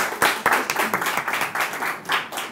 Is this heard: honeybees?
no